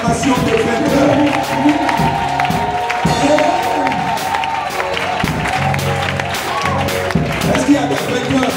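A church congregation cheers and shouts acclamations in a loud, continuous crowd roar mixed with clapping, voices and music throughout.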